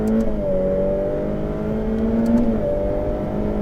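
A Ferrari F8 Tributo's engine drones loudly and steadily on a racetrack, its pitch climbing slightly as it accelerates to overtake, with a constant mechanical whir throughout.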